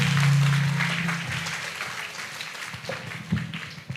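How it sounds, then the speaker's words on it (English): Audience applause at a university research and entrepreneurship park event, a broad wash of clapping that starts loud and slowly tapers over a few seconds, with a low voice briefly audible underneath. "One round of applause for everybody."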